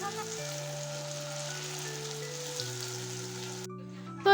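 Lentil fritters (dal bora) frying in hot oil, a steady broad sizzle that runs continuously at an even level, with soft background music tones underneath and a brief louder bump at the very end.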